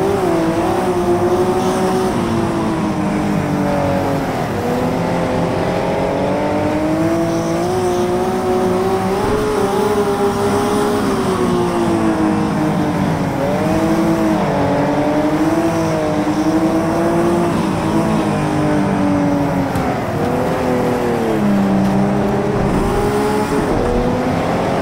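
Several race car engines in the racing game Next Car Game snarl through a race, a loud, continuous droning whine that rises and falls with gear changes and acceleration for the whole stretch, with no talking over it.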